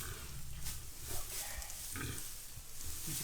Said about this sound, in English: That's a big pig, right?